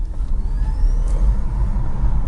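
BMW i3 94Ah 2016 electric car pulling away under acceleration, a steady low road and motor rumble with a faint rising whine, heard from inside the cabin.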